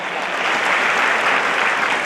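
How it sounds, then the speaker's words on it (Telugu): Loud, steady applause from an audience at an anniversary celebration greets the arriving chief guest, professor Kodandaram, a thick continuous roar of many hands clapping, close and unbroken. "గట్టిగా చప్పట్లతో వారికి ఆహ్వానాన్ని పలుకుదాం."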